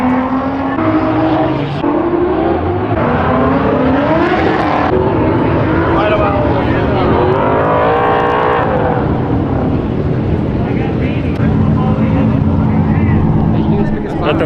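A 1,000HP Mustang drift car idles and revs at Fuel Fest 2024, its engine droning loudly with rising and falling tones, while a crowd chatters and voices speak throughout.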